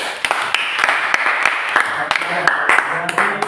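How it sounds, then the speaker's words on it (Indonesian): Classroom audience applauding a group's presentation in a teacher-training session, steady scattered clapping throughout with a few sharper claps standing out, fairly close and lively. "Kita beri aplaus untuk kita semua."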